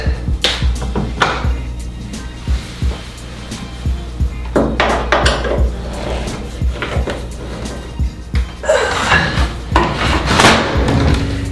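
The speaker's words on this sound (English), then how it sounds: "There's a couple more screws back here, so let me take care of those." Screws are being undone from the rear panel of a washing machine, giving irregular taps, clicks and knocks of metal and plastic over several seconds, close by and fairly loud, with no talking.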